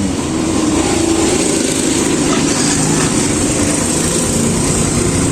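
A Yamaha Mio scooter's engine runs steadily nearby, giving a loud continuous drone after an error 28 fault is repaired.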